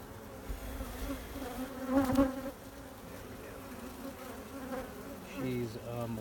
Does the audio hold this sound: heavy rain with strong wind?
no